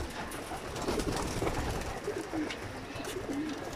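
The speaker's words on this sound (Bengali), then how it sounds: "এই যে এখানে যেগুলো আছে এগুলো ব্রিডিংয়ের কবুতর বন্ধুরা" Breeding pigeons coo softly in their loft, with several low, rolling coos repeating over a steady background hiss.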